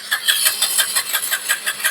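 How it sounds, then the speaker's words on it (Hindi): A Hero i3s BS4 motorcycle running low on petrol cranks on its self-starter, giving close, fast, evenly spaced pulses that churn for about two seconds without catching. "फिर से गाड़ी को स्टार्ट करते देखिए चाबी को मैं ऑन कर रहा हूँ"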